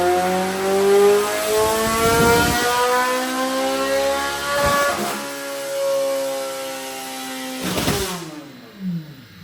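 A Chevrolet Corvette C8 Z06 with a ported intake and stock throttle bodies revs hard on a dyno. The engine climbs in a loud, sustained howl with rising harmonics and sharp shift breaks, then cuts off near the end.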